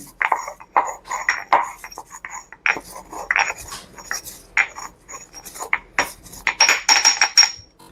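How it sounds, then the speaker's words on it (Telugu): Cardamom pods and cloves being pounded by hand in a kitchen while making Kitchen King masala powder, giving a string of sharp, clinking metallic knocks in uneven rhythm, close and fairly loud with no talk. "ఇందులోనే లవంగాలు కూడా ఒక 7 వేసేసుకొని బాగా దంచేసుకున్నామండి."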